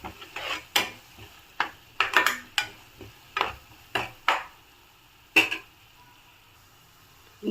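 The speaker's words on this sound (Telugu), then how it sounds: "ఒకసారి మిక్స్ చేసుకుందాం" A spoon scrapes and knocks against a pan while turmeric and chili powder are stirred into aloo kurma, a string of close, irregular strokes over a faint sizzle, then a pause.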